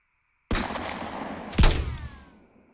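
Two booming gunshot sound effects from a large-calibre gun, a sharp blast followed about a second later by a heavier one, each trailing off in a long echoing tail.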